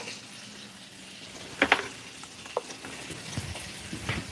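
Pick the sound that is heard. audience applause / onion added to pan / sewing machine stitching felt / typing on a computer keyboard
onion added to pan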